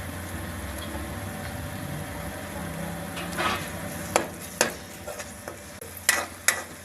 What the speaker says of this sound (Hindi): प्याज हमारा अच्छी तरह से फ्राई हो गया है। अब इसमें अदरक और लहसुन का पेस्ट डालेंगे 1 चम्मच।